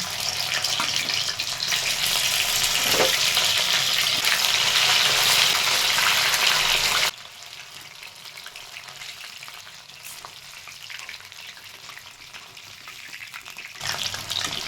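Mushroom Manchurian frying in hot oil gives a loud, dense sizzle for about seven seconds, then drops to a softer, quieter bubbling before swelling again at the end.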